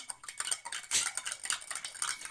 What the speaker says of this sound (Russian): Все это тщательно перемешиваем.